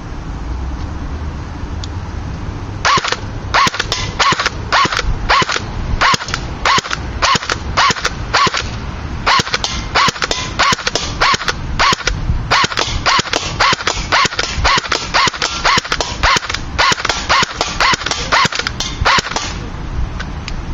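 CYMA CM 027-J airsoft gun firing semi-automatic at cans outdoors, a long string of sharp, evenly spaced snapping shots with short pauses between bursts, loud and close, with no talking.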